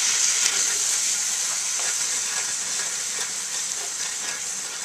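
Ground meat seasoned with Italian seasoning sizzles steadily in a pan, a dense close hiss with faint stirring scrapes and no talking throughout.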